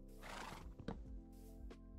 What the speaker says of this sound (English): I'm on horseback